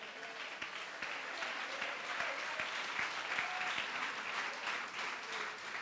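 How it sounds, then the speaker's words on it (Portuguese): A church congregation claps together in a dense, steady burst of applause that holds at an even level throughout, heard from within the room with no talk over it. "Dê uma salva de palmas ao Senhor."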